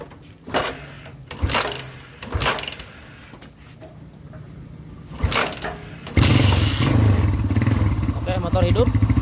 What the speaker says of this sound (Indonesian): sekarang kita nyalain dulu motornya